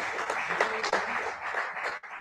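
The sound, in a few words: audience applause in church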